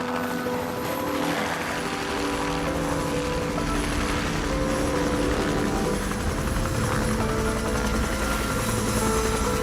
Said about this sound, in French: Voilà l'hélico, on décolle déjà.